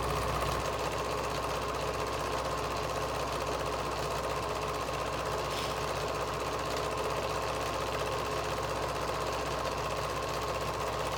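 A Pfaff Creative 7510 sewing, embroidery and overlock machine with a metal casing runs at a steady pace, giving a continuous close mechanical whirring and fine rapid ticking at an even level.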